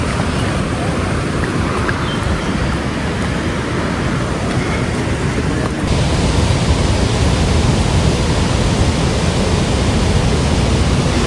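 Athirapally waterfall in Kerala roars with heavy flowing water, a dense, constant rushing noise that is loud and unbroken, growing slightly stronger midway, with no voices.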